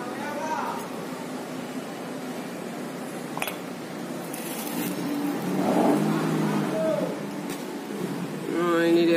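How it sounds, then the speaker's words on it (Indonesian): Cars and buses roll past on the trans-Sumatra highway beside a roadside rest area, a steady near traffic rumble with engines swelling as vehicles pass, while people chat close by. "Duduk di luar bisa melihat mobil-mobil lintas Sumatera yang lewat-lewat."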